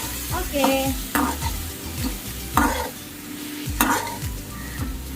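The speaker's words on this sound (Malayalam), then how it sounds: "ഇനി ഒന്ന് നന്നായിട്ടൊന്ന് ഇളക്കി മിക്സ് ചെയ്യണം." A cut mango pickle mixture is stirred in a pan, with a rhythmic series of scraping strokes over a steady sizzle, close and fairly loud.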